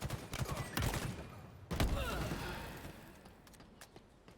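Shotgun fire in the online shooter Halo Infinite: a few sharp, booming blasts with thudding decays spaced unevenly. A voice talks over the game sounds.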